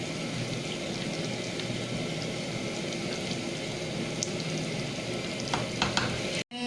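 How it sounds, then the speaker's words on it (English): Onion sautéing in a pan for chicken white karahi: a steady, dense sizzle and crackle close up, with occasional stirring scrapes and no talk. "roast the onion."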